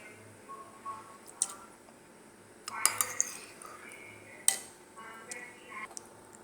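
A spoon stirs basil seeds in a glass for a falooda drink, with soft clinks and swishes against the glass in short irregular bursts. The sounds are quiet and close, mixed with faint background noise.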